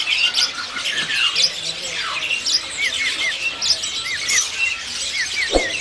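Busy chorus of caged songbirds at Pramuka bird market, including white-rumped shamas, jalak suren starlings and other birds, with repeated sharp chirps, whistles and squawks overlapping closely amid faint market bustle.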